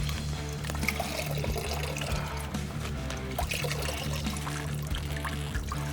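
Water draining and trickling out of a lifted bubble hash bag, a continuous splashing pour with a low steady hum beneath it, close and even throughout.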